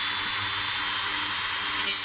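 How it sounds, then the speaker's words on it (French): A rotary cutting tool whines at a high steady pitch while cutting through a model railway rail, a close, continuous shrill grinding with no pauses. "avec l'outil de découpe, je m'arrange pour que le rail soit bien droit"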